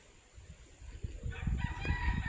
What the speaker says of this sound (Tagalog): may mga alaga din silang manok, bibe, tsaka mga ibon